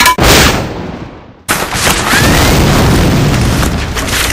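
In a video game, an artillery high-explosive round fires and detonates, a loud deep boom with a long rumbling tail, then a second heavy blast rolling on steadily, no voices.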